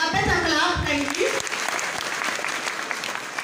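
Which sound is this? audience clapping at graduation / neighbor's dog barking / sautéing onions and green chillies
audience clapping at graduation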